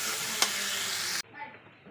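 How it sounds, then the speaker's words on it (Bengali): Chopped onion hits hot oil and sizzles with a dense, loud hiss, broken by one sharp click as it is stirred. The hiss then cuts off abruptly, leaving a softer, quieter frying sound. "পেঁয়াজটা দিয়েছি, একটু নেড়ে দিচ্ছি।"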